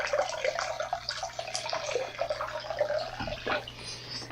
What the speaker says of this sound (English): I'm going to pull this filter out, let it drain a little bit